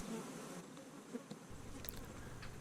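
Honey bees buzz around hives in a bee yard, a steady close swarm hum with a few individual bees droning past.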